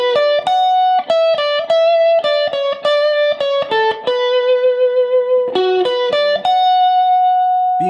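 A distorted electric lead guitar plays a solo line of quick picked notes and arpeggios, ending on long sustained notes with wide vibrato, loud and alone.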